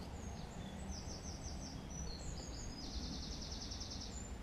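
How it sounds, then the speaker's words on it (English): Birds sing in an urban garden in April, with repeated high chirping phrases coming from a short distance over a steady background hiss. "you hear the birds singing?"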